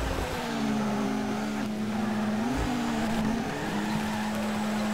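A Toyota GT86 drifting sideways in Torque Drift, its engine holding a steady high drone with small pitch wobbles and tire squeal throughout, loud and continuous with no talk.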